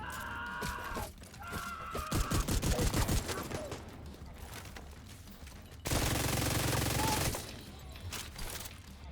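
Bursts of rapid automatic gunfire from The Division 2, a shooter video game, including one dense rattling volley at the start of the second half, with quieter shots and game effects in between.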